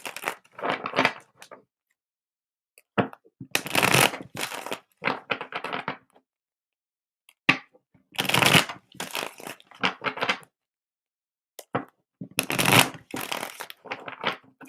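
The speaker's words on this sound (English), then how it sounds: "So Taylor, I'm going to get a few clearing shuffles in" Tarot cards being shuffled by hand in repeated bursts of crisp riffling and flicking, separated by short silent pauses, close and clear with no talking.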